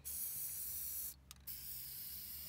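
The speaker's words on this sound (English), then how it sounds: "see how I just spray a little bit?" Short bursts of spray paint hissing from an aerosol can onto a scooter for hydro dipping, a loud close spray broken by a brief pause before resuming.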